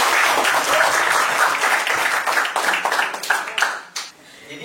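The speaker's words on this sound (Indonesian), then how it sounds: "Beri tepuk tangan." A press conference audience for the Triumph Fight Series 3 weigh-in bursts into a dense round of clapping that holds steady, then thins out and fades near the end.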